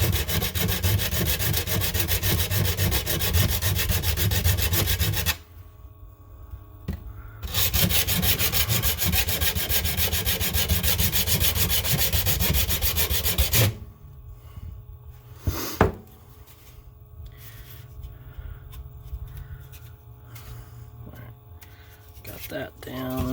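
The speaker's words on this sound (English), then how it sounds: "Or I can just keep filing it down." Harsh, rhythmic rasping as a file works down a plastic dash opening in a Mazda Miata, in long close strokes broken by pauses with softer handling noises.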